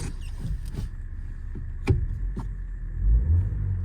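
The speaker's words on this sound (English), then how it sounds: "Just giving it a rev for you. It's very quiet, it's very smooth." A 2011 Ford Mondeo Titanium with a 1.6 turbo petrol engine and manual gearbox idles quietly and smoothly, then rises in a brief, soft rev near the end.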